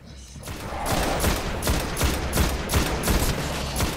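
Rapid gunfire in the sci-fi shooter Destiny, a loud run of sharp repeated shots in quick bursts, close and dominant, with no talking over it.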